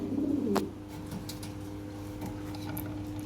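A Lahori pigeon gives one short, soft coo at the start, then only a quiet background hum remains.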